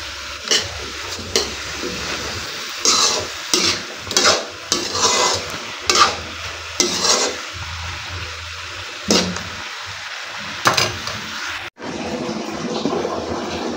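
A spoon scrapes and stirs through a simmering pot of guava, about a dozen rhythmic close strokes over a soft bubbling hiss, then the stirring stops and only a steady low simmer remains.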